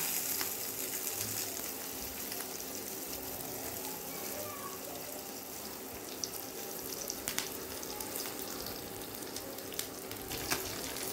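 Potato and capsicum pieces, just added to hot fish-frying oil with toasted black cumin, sizzle in a soft, steady hiss that runs unbroken from start to finish with a few faint clinks.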